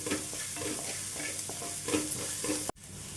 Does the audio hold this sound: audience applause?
no